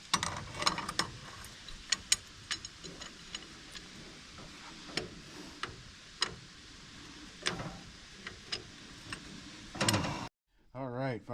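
A ratchet wrench clicks in short irregular bursts while the starter bolts come off a tractor pulled from the weeds with a stuck motor, close and fairly loud, and a voice speaks briefly near the end.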